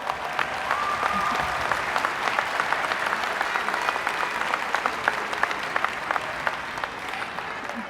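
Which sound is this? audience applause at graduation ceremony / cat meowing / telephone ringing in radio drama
audience applause at graduation ceremony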